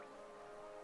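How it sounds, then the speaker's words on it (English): Steady, soft patter of rain falling on glass in the video game Hollow Knight, a faint continuous hiss with a low tonal hum beneath it and no voices. "I so love the sound of the rain upon glass"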